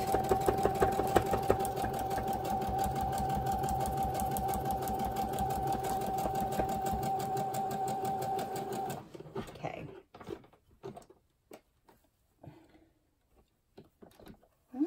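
A sewing machine stitches banner fabric with a rapid, steady mechanical whir for about nine seconds, then stops, leaving scattered clicks and handling noises.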